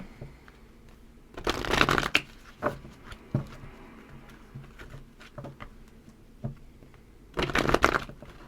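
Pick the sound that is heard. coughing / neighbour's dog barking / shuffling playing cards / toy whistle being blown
shuffling playing cards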